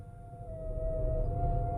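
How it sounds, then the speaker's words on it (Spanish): An ambulance siren wails in a steady sustained tone, distant at first and then growing slightly louder, with low rumbling street noise underneath and no voices. "oía pasar la ambulancia"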